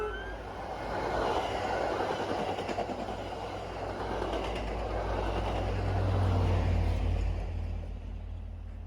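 An MBTA commuter train rolls past along a stretch of track, a continuous low rumble and rattle that swells slightly toward the end, heard from trackside at moderate distance.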